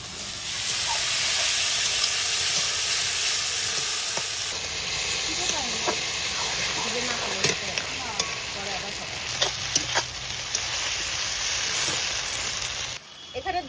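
Ginger, garlic and chili paste sizzles steadily in hot oil in a home kitchen, a close, continuous frying hiss with occasional stirring scrapes, cutting off near the end.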